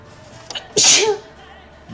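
A single loud sneeze, close to the microphone, with a short sharp intake just before it, and quiet room tone before and after.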